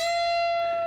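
A single electric guitar string bend, played without a rake, rings out clearly, holding steady for under a second with a bright, bell-like tone.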